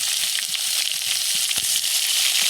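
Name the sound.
onions frying in oil in a wok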